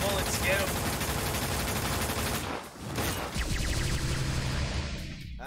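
Video game gunfire rattles in loud rapid bursts, with a brief dip partway through before the shooting resumes just as densely.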